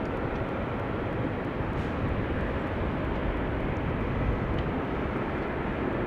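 Airbus A350 airliner at Amsterdam Schiphol Airport, heard as a steady, loud broadband roar that holds at an even level throughout with no talk.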